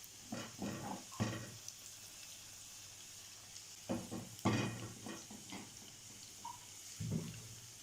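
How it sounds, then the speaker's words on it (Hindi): Chicken cheese spring rolls fry gently in hot oil, giving a faint, soft sizzle broken by scattered clinks and bursts of bubbling as they are turned, close and quiet with no talk. "तो यहाँ पे हल्के हल्के हम इसे फ्राई कर लेंगे"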